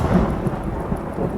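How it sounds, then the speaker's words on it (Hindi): A loud thunderclap rolling through a sudden storm on a road at night, a short, deep rumble close by, with rain hissing beneath it. "अचानक ज़ोरदार बादल गरजता है।"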